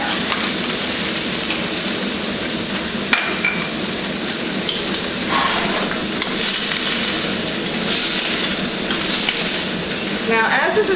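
Food browns in oil in an Instant Pot, giving a steady, dense sizzle and crackle throughout, close and continuous, with occasional clinks of a utensil stirring.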